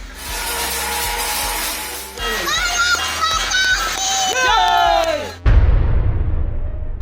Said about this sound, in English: all citizens were asked to stand at their doorways, balconies or windows and clap or ring their bells in appreciation